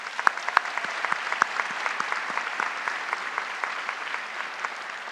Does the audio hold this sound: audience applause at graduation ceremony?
yes